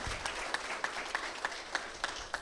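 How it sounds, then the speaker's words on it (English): Scattered applause at a cancer care center ribbon-cutting ceremony, a few distinct claps landing in a steady rhythm about every third of a second, fairly faint and somewhat distant. "So give yourselves a round of applause,"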